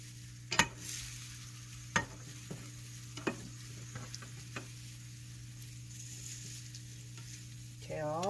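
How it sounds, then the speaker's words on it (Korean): Potatoes being tossed into sugar syrup for Korean candied sweet potatoes, a quiet bubbling sizzle under a steady low hum, with a few sharp clicks and scrapes of stirring spread across the clip. "감자를 넣어주시고 이렇게 섞어주세요"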